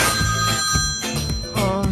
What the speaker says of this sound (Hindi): सुबह सुबह फोन।